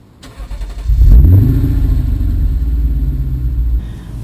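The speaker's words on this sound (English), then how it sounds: "roars to life." A 2012 Lexus IS F engine cranks and catches about a second in, flaring into a loud, close rev before settling into a steady, deep idle rumble, with no talking.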